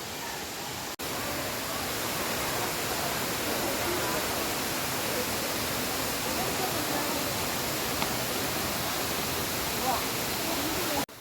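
Vazhuvanthol waterfall, running low on water, gives a dense, steady roar of falling water, close and continuous throughout with no pauses.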